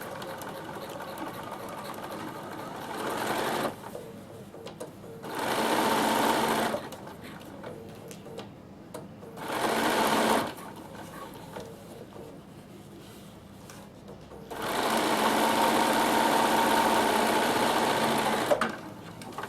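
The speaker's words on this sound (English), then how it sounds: "So I'm just going to stitch across here with my seam, and straight sewing." A sewing machine runs straight stitches along a seam on a tissue box or wet wipe cover, in four separate loud bursts of steady whirring with quiet pauses between them.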